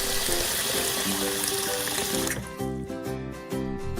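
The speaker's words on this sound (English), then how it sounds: "Wash your hands." Tap water running into a sink as hands are washed, a loud steady splashing that changes to a lighter, choppier trickle and splash partway through.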